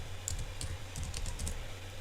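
Typing on a computer keyboard with a few quick, close keystroke clicks over a low steady hum. No one talks.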